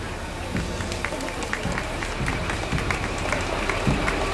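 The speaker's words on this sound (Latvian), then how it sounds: "Aplausi arī viņiem!" An outdoor crowd applauds soldiers parading at a seaside resort's season opening in Jurmala, the clapping steady and dense throughout with an announcer's voice over it.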